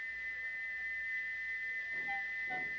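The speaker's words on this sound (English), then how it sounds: "he wouldn't stop whistling until two fitters climbed up and knocked his whistle valve in place" Gordon the steam engine from Thomas & Friends, his stuck whistle valve sounding a steady, unbroken high whistle that holds throughout, with a couple of faint short chirps near the end.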